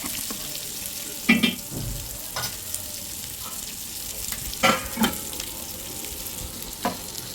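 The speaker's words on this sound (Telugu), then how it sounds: "ఇప్పుడు గట్టిగా తిప్పకూడదు అనమాట మెల్లి మెల్లిగా తిప్పాలి" Korameenu fish fry sizzles in a pan while being gently stirred, a steady low crackle broken by several soft scraping stir strokes and clinks.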